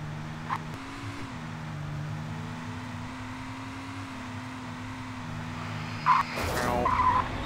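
A truck in Alan Wake Remastered idles with a droning engine, then its tires squeal in a short, sharp skid near the end, followed by louder rumbling.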